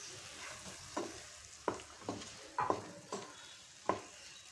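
Beetroot pachadi with beaten thick curd being stirred in a pan over low heat, giving a series of soft scraping strokes about once a second over a faint steady sizzle.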